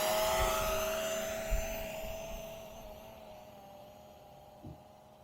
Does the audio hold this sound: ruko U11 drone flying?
yes